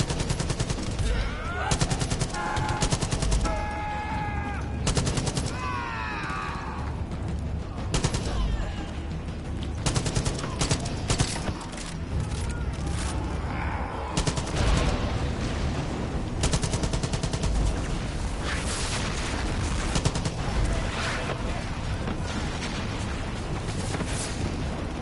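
Loud gunfire and explosions in the video game Far Cry 5 arcade mode, rapid bursts and rattling volleys over a dense rumble, with a voice talking at times.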